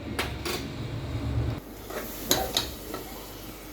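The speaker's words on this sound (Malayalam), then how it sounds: "തക്കാളി പേസ്റ്റായിട്ട് അരച്ചത് ഒന്ന് വതകട്ടെ. നന്നായിട്ടൊന്ന് വതക്കണം." Ground tomato paste sautéing in a pan, a low sizzle broken by scraping stirs and clinks of a utensil against the pan.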